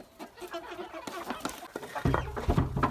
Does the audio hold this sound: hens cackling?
yes